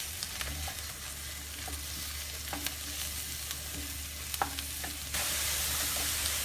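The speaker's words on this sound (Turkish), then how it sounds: "Şimdi birazcık onları da karıştırıyorum." Sliced leeks being stirred in a pan for an orange-leek dish, giving soft scraping spoon strokes against the metal at irregular intervals over a quiet, steady sizzle, with no voices.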